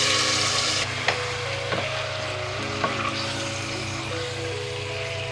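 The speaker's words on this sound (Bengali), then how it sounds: "একটু তেল দিয়ে নিচ্ছি, এটার মধ্যে এখন আমি মাংসটা দিয়ে দেবো।" Meat for an Eid kachhi going into hot oil in a pan: a steady, close frying hiss and sizzle that settles slightly after the first moment, broken by a few light knocks of a utensil against the pan.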